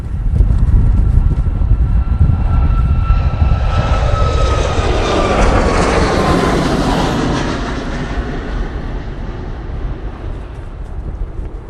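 A Boeing 777 airliner at Manchester Airport roars past with a loud, sustained engine rumble and a descending whine, peaking midway and slowly fading as it moves away, no speech over it.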